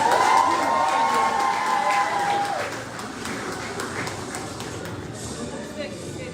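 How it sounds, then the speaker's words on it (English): Audience at a 2024 secondary school graduation ceremony breaks into applause and cheering, loud and broad at first, with a whistle-like tone, then settling into a softer sustained clapping and crowd murmur. "Give them all a round of applause."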